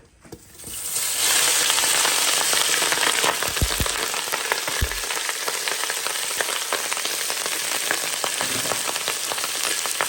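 Andouillette sausages dropped into a hot pot for a rougail sizzle loudly and steadily, a dense crackling fry that starts abruptly after a brief quiet moment and keeps up throughout, with a few faint clinks.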